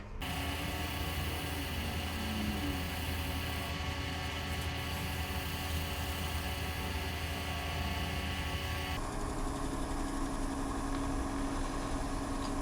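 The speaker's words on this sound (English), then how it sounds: "I'm running this right about 700 RPM, and I'm getting pretty decent heat buildup through that cloth" A wood lathe spins at about 700 RPM while a cloth buffs a turned snack bowl, giving a loud, steady motor drone with a tonal hum that shifts slightly near the end. No one speaks.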